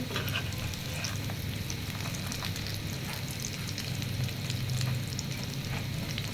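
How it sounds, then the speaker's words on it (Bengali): Chicken kebabs fry in a shallow layer of oil for iftar, giving a close, continuous crackling sizzle that stays even throughout, with no talking. "এই যে কাবাবগুলো কত সুন্দর করে ভাজা হয়ে যাচ্ছে"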